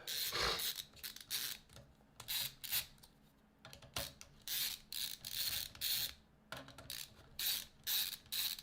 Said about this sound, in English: loosen the 3 M3 screws because we're going to be removing the Nextruder assembly